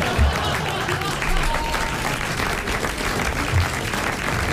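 Applause from a radio game-show audience for a contest winner, a dense sustained burst of many hands clapping that runs throughout at moderate loudness.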